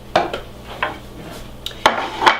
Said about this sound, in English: And all I'm going to do is remove my blender equipment.